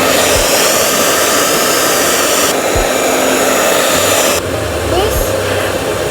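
Hair dryer blowing steadily at close range through most of the clip, a continuous loud airy roar with small shifts in pitch as it is moved while drying hair at home.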